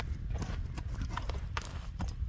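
Hooves of an eight-year-old Karabair horse clip-clop in a quick, uneven stream of close knocks over steady outdoor rumble, with brief snorts and faint voices nearby.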